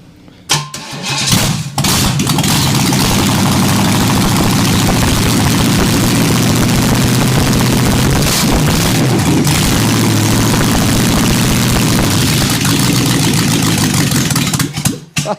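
A Buick 430 V8 engine core with its starter, sitting on a garage floor, cranks and fires up at about two seconds, then runs loud and steady with a rough, throbbing idle for the rest, alone with no voices.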